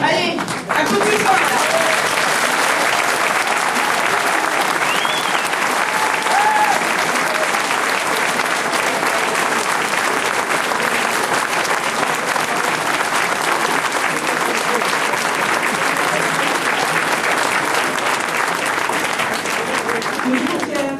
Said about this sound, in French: Allez, applaudissez-moi.